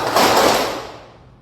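A group claps in unison during a counting clap game, making one loud, sharp burst of many hands that rings briefly in the room before decaying.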